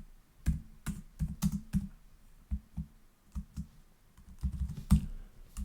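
Keystrokes on a computer keyboard while a Bash script is written, heard as quick irregular bursts of close, soft clicks with short pauses between them, no voice.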